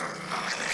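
A dog growls low and rough in a horror film scene, a short, continuous rumble that rises slightly before stopping.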